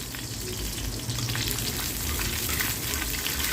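Peanuts fry in a pan as spices go in for a Bengali vegetarian banana-flower chop, giving a steady close sizzle and crackle throughout with no talking.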